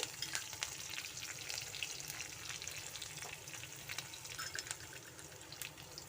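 Curry leaves fry in a pan for a Mumbai-style brinjal gravy, giving a steady, fairly quiet sizzle with faint crackles and occasional stirring scrapes throughout.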